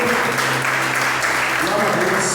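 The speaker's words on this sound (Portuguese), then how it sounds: "Então aplauda em nome do Senhor." A church congregation claps during an evening celebration service. The applause is brief and steady, mixed with voices and tonal sound underneath.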